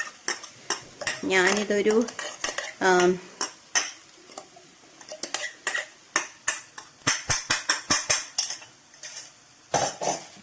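Grated coconut going into banana flower thoran in a pan, with loud clinks and scrapes of a spoon against the vessel in quick irregular bursts, plus brief speech near the start and end.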